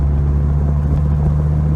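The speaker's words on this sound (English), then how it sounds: "Catback exhaust really makes the car sound like it needs to sound." Low, steady engine rumble from a Dodge Viper breathing through a catback exhaust, a continuous close drone with no talking.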